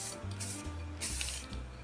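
Gloss clear coat sprayed from an aerosol can onto a wooden banana holder, heard as several close hissing bursts with brief pauses between them, no talking.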